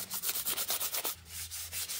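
Sandpaper rubs over a panel on a 1964 Plymouth Fury in quick, rhythmic back-and-forth strokes, soft and close with no talking.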